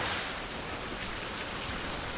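Steady rain falls in the survival video game Survival: Fountain of Youth, a dense, even hiss of drops at moderate volume with no other sounds.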